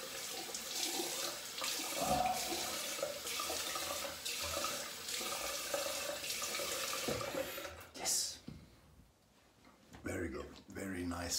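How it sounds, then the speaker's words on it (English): Tap water runs steadily into a sink during a shaving rinse, first warm then cold, a close broadband rush with a couple of brief interruptions and a few faint spoken words over it. "Ah, warm water, now cold water."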